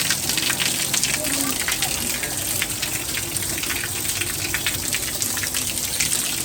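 Rainwater pours and gushes steadily into a room through a leaking roof during heavy rain, a loud, unbroken rushing splash close by with voices talking over it.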